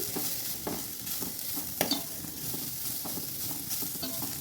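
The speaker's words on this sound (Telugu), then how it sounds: "సేమియా అయితే కొంచెం కలర్ చేంజ్ అయ్యే వరకు బాగా ఫ్రై చేసుకోండి" Vermicelli with dry fruits is fried and stirred in a pan on low heat for carrot payasam, with steady crackling sizzle broken by repeated scraping strokes of the spoon, close and continuous without talk.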